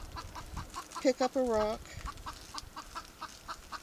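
A chicken lets out a quick run of short clucks that rises into a longer drawn-out cackle. It sits close and clear among quiet speech and outdoor background noise.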